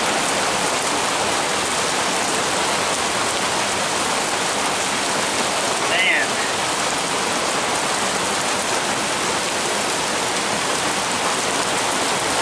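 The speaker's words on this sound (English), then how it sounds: "while I was gone it started raining again" Steady rain falls outdoors at a sawmill yard, a dense continuous hiss that stays even and fairly loud throughout with no voices.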